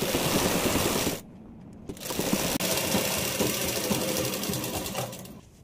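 A sewing machine stitches lehenga lining fabric in a steady, loud whirring run, briefly pausing near the start and then continuing to the end.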